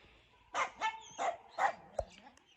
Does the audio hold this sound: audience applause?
no